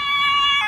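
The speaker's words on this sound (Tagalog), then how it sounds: "May ambulansya." An ambulance siren on a street, a loud, steady wailing tone heard briefly at close range with no talk over it.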